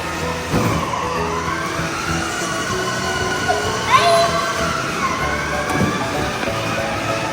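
Battery-powered ride-on toy car motor whining steadily as it backs up and then drives forward, a continuous near electric hum with a brief squeal midway, while background voices talk.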